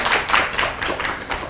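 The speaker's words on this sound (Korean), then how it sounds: "큰 박수 부탁드립니다" Hands clap for a speaker at a career mentoring talk: about six crisp, evenly spaced claps, moderately loud and close, with no voices.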